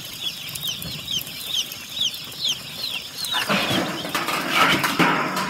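Chicks cluck and chirp in short repeated bursts over a rustling background, joined by a louder, noisier stretch in the final seconds.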